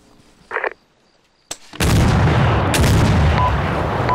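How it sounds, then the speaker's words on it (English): A claymore mine detonates in the Arma 3 military shooter with a sudden heavy blast that rolls on as a long, loud rumble, preceded by a couple of faint short clicks and pops. "So those claymores. Fire in the hole."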